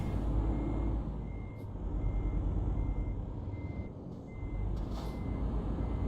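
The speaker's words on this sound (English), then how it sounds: "Now you're gonna hear backup beepers" Repeating reversing beeps from trucks maneuvering in a city in Euro Truck Simulator, a steady beep pattern over a constant diesel engine rumble, with a brief air brake hiss near the end.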